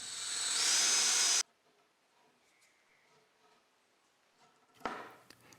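A power drill with a brad point bit whines loudly for about a second and a half drilling dowel holes in a 1930s wooden rocking chair, then stops, leaving a quiet room and a brief knock near the end.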